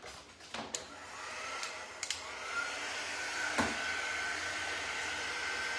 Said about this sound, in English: I'm going to dry it with the glue gun, or the dryer gun thing